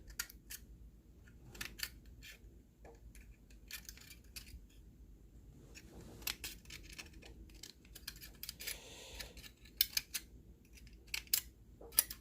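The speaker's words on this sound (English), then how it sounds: "I took the scissors and I cut a little corner off of every one of these" Scissors snip corners off small metal alcohol stove parts, a series of sharp, quick clicks and snips close up in a quiet room, irregular in rhythm.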